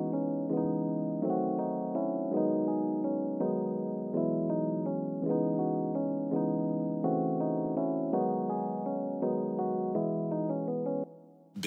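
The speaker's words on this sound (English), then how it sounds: "And the piano sounds like this." A Pretty Suitcase piano chord progression in a pluggnb beat plays alone as a series of clear, sustained chords in a steady rhythm, ending abruptly.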